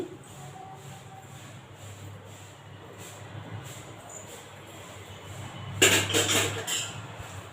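Roasted fenugreek seeds scraped from a hot cooking pot onto another plate: a short burst of metallic clatter and scraping near the end, after a quiet kitchen stretch.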